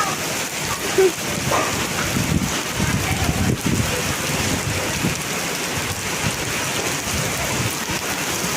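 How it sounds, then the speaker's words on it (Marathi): Dense, steady pattering of hail and rain striking surfaces nearby, a continuous loud hiss with occasional heavier knocks. "पहा गारांचा पाऊस"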